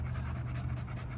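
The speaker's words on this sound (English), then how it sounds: "My dogs right now, they panting and stuff like that" American Bully dogs pant softly and steadily, close by but faint, with a quick, even rhythm.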